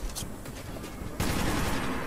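Gunfire in the video game Metro 2033 Redux: scattered shots at first, then a louder, denser volley of rapid fire that erupts partway through and keeps going, with no voices.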